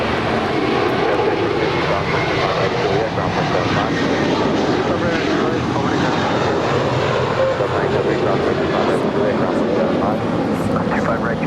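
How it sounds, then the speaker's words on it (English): American Airlines Airbus A321 jet departing LAX on its takeoff roll, a loud continuous engine roar filling the scene for its whole length, with a person speaking over it. "This is American Airlines 1713 departing to Orlando. It's an A321."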